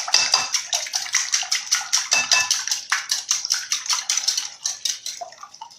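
Egg yolks are beaten briskly in a bowl with a whisk or fork, producing a rapid steady run of clinking, sloshing strokes against the bowl, close and fairly loud with no talking.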